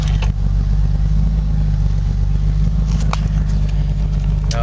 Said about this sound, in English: Okay, cold start. Right up the high idle.